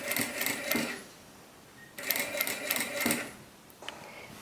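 Sewing machine stitching along the side seam allowance of a zippered fabric tote bag, heard in two close bursts of rapid whirring with a pause between and a brief third start at the end.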